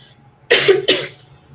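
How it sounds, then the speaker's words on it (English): Two quick, harsh coughs close by, one right after the other, then quiet. "I don't know what I'm coughing about"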